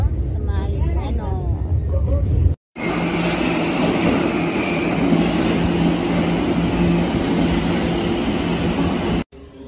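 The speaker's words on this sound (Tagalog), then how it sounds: "We're now on the train sa Skyline." Skyliner airport train in Japan rolling along, a loud steady rumble and whoosh of the carriage with brief cuts in the sound. Someone speaks briefly at the start before the train noise takes over.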